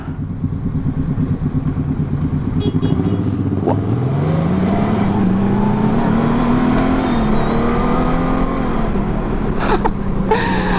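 A 2019 Honda Goldwing Tour DCT motorcycle accelerates hard, its engine note climbing steadily through the gears with a loud, close, continuous drone and no talk over it.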